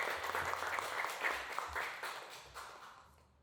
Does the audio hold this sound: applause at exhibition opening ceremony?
yes